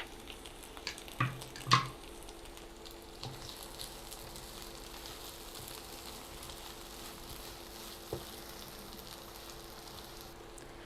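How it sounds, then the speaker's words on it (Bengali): Half a cup of onions fries in a spoonful of mustard oil in a kadai, giving a faint, steady sizzle with a couple of brief clatters near the start. "পেঁয়াজটা ভাজা হয়ে গেছে"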